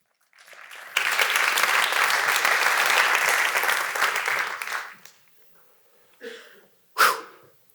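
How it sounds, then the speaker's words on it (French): An audience applauds a speaker at a nature and economy forum, a loud sustained burst of clapping that swells, holds for about four seconds, then fades out, followed by two short isolated noises. "Il s'appelle Gérard Boss, que je vous propose d'applaudir."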